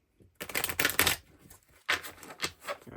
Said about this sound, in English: We'll give that a quick shuffle.